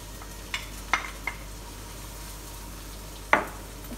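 Onions hit hot olive oil with a few sharp taps and scrapes from a utensil against the pan, over a faint, low background sizzle.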